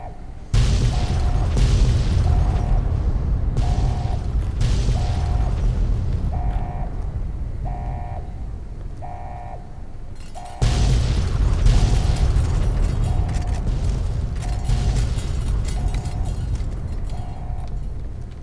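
A series of loud booming explosions in Fallout: New Vegas, one after another, with a repeating beeping tone in between, followed by another heavy blast and a dense roaring aftermath.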